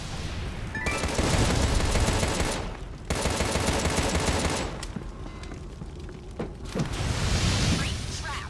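Bursts of gunfire from the video game Contra: Rogue Corps, dense rapid automatic fire with booming impacts that surge loud, pause briefly and resume, with a voice talking over parts of it.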